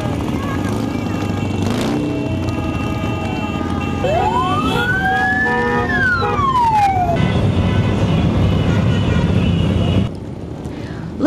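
During a city day parade, a siren wails in a rising and falling sweep over a loud, steady rumble of motorcycle engines, with horn-like tones and crowd noise from the street.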